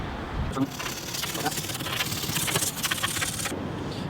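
A razor blade slices excess material flat on a Land Cruiser 80 series door panel, a close, steady scraping and rasping cut lasting a few seconds with a faint background hum.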